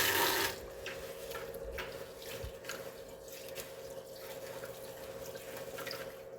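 Tap water runs steadily into a kitchen sink as food is washed before zero-oil cooking, opening with a brief louder gush, then a continuous moderate stream with a few drips and clinks.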